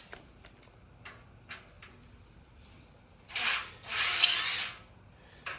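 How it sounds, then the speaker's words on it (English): A power drill undoes screws on a Toyota grill, with two short whirring bursts after some light clicks and taps, the second burst longer and close by. "So we'll undo that and undo this."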